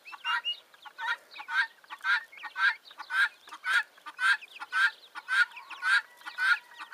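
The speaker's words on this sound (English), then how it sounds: "So you're a little rooster, are you?" Young rooster gives a steady series of about a dozen short, nasal clucking calls in an even rhythm, close by and clear against a quiet background.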